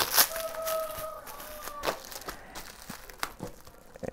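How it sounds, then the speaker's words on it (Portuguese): Sticky plastic gift bags are pulled apart and unwrapped, giving quiet, irregular bursts of crinkling and crackling with a few sharper rustles. "tem muita sacola. E é um plástico colante."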